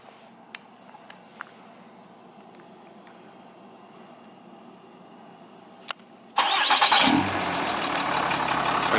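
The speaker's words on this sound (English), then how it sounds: "if you want to start the truck, hold the 3rd button until the lights flash" A 3rd gen 6.7 Cummins diesel truck is remote-started: a few faint clicks sit over quiet background, then the engine cranks and catches abruptly, settling into a loud, steady, close rumbling idle.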